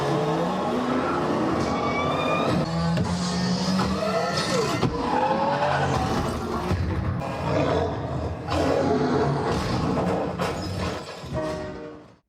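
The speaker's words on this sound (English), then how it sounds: "the second movie demo is the race scene in Ready Player One" Car race scene from the movie Ready Player One, played back through Legacy Audio Focus SE tower speakers: a dense, continuous roar of racing engines with skids, crashes and shattering impacts, loud throughout with no talking.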